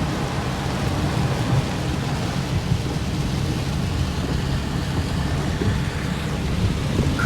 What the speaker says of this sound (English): Come in, some lightning, dump a bunch of rain, move on.